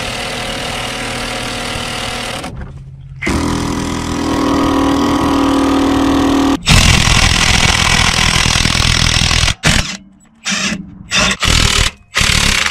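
A power impact wrench driving budget Power Fist impact sockets, with loud sustained motor whirring and hammering runs, broken by abrupt stops and a series of short bursts toward the end, with no speech.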